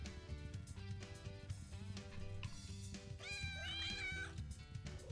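A cat meows repeatedly in the video game Play with Gilbert, a cluster of close, rising and falling cries heard over game music.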